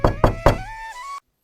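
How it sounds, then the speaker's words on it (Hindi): Three firm knocks strike a village house's door in quick succession, loud and close, followed by a fading ringing tone before silence. "सरपंच अपने कुछ आदमियों के साथ सुबह सुबह वेदांत के घर का दरवाजा बजाने लगते हैं"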